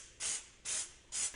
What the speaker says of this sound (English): So we'll go ahead and spray them like we did the cover with the surface prep.